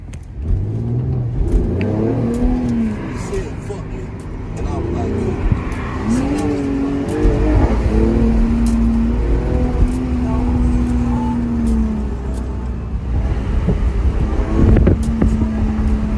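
A Corvette C8 engine revving loudly and continuously, with rising and falling engine tones and occasional sharp pops from the exhaust, with people talking over it.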